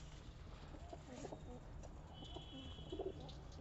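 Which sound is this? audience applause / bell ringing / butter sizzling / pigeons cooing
pigeons cooing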